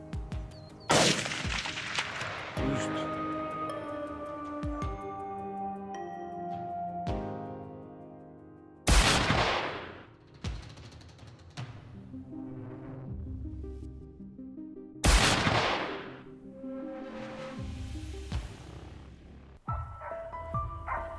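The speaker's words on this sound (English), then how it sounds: "Not wasting the opportunity, we immediately opened fire" Gunfire aimed at a fast wild boar on a mountainside: a few sharp, loud shot bursts spaced seconds apart, each ringing out, with dog-like barks and yelps mixed in between.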